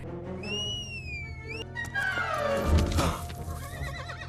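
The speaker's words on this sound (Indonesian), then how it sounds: "Untung saja Indy punya kuda andalan yang menjadi tunggangannya" A horse neighs loudly in a film scene from Indiana Jones and the Last Crusade, a long shrill whinny followed by rushing, clattering action sounds and a second, fainter whinny near the end.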